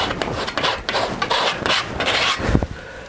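Oil paint, yellow ochre and burnt sienna, scraped thinly onto a canvas in a studio: short, close, gritty scraping strokes in quick bursts, heard alone.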